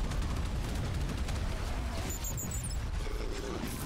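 A mech in the Dreadhunter game fires a volley of missiles, producing a dense, continuous rumbling barrage of launches and blasts that stays loud throughout.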